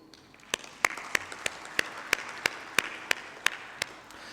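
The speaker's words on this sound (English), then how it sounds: "that deserves a round of applause" A small audience at a Tanzanian oil and gas conference applauds, a sparse, fairly quiet patter of clapping with distinct individual claps spaced at a roughly even rhythm.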